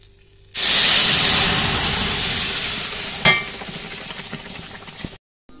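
Hot tempering of chilli, bay leaf and fenugreek is poured into lentils seasoned with turmeric, cumin and green chilli, bursting into a loud, close hiss that fades gradually, with one sharp crackle partway before it stops abruptly.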